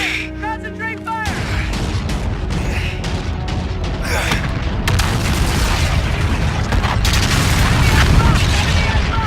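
A Call of Duty: Infinite Warfare space battle erupts with loud, continuous gunfire and heavy booming explosions. The sound is dense and unrelenting, with shouted voices mixed in.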